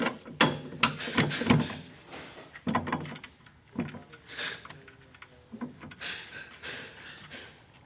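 A ratchet tightens a coilover bolt on an S13 240SX during an angle kit install, giving bursts of close mechanical clicking and clanks with pauses between turns.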